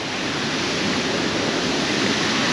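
Davis Falls on the Seti river in Pokhara, a steady broadband rush of falling water, loud and continuous with no pauses and no voices over it.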